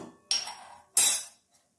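Fried potato and eggplant pieces are scooped from a pan into a bowl with kitchen utensils, making two short, close clattering scrapes separated by a brief pause, with no talking.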